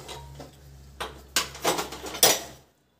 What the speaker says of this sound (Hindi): हम कुकर खोलकर देखते हैं